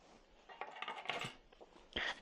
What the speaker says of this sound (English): First, we have our keys.